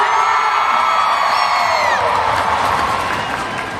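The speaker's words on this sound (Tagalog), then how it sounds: "Kulang sa palakpak! Palakpakan natin!" An audience cheers and whoops loudly at a live performance, a bright wash of shouting voices that swells at first and slowly fades over a few seconds.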